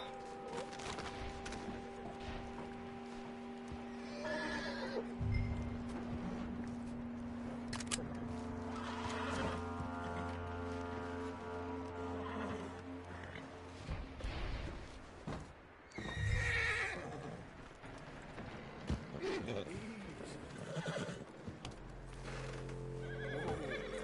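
A horse in the video game Red Dead Redemption whinnies loudly and repeatedly, with hoof clip-clops and scattered background effects around it.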